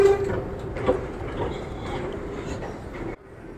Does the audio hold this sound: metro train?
yes